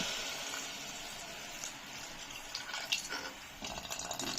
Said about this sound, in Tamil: தண்ணி ஊற்றுறாங்க. இப்போ மக்ரூனி முழுகிற வரைக்கும் ஊற்றணும்